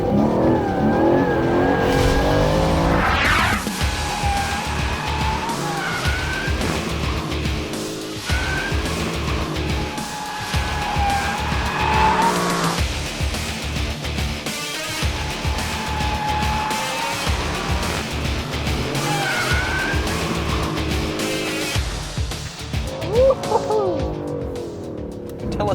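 A new Aston Martin Vantage drifts nearby on a racetrack, its engine revving hard and dropping repeatedly while tires squeal and skid through long slides.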